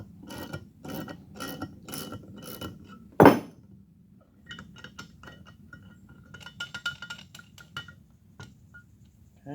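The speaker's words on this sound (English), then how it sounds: "reverse the ratchet and loosen this" A ratchet is reversed to back off a valve spring compressor on an AFR small block Chevy cylinder head, a run of close, quick metallic clicks and one sharp clank, followed by lighter scattered metal ticks.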